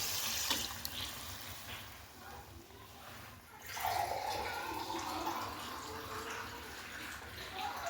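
Water pours steadily into a pot for chicken biryani rice in a village kitchen, a continuous splashing rush that swells partway through, with a person speaking over it.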